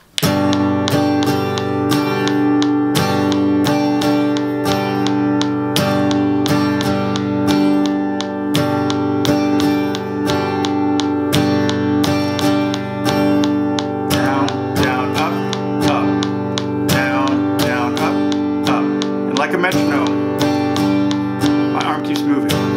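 Guitar strummed steadily in a standard folk groove with a mix of downstrokes and upstrokes. The chords ring loud and close with a continuous rhythmic pulse for over twenty seconds. A voice occasionally murmurs beneath the playing.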